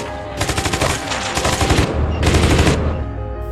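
Gunfire exchange in a film, with loud rapid machine-gun bursts crackling in two long volleys and a brief gap between them.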